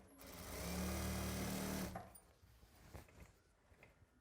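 A sewing machine stitches a lungi hem in a rapid, loud mechanical whir for about two seconds, then stops, leaving faint handling clatter and quiet room noise.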